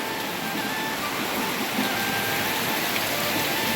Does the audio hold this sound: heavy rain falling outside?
yes